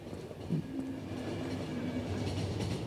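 Steady rumble of a train rolling along rails in a post-apocalyptic survival game, a continuous low clatter with a brief tonal squeal, no talking.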